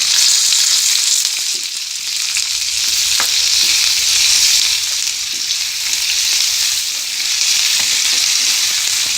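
Chopped onions fry in a pan for sooji upma, a continuous bright sizzle with faint occasional stirring taps.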